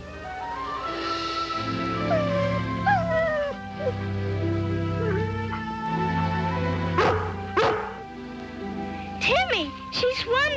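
Lassie, a collie, barks and whimpers in a few short, bright yips and whines over a steady bed of orchestral music, close and fairly loud, with a voice speaking in places.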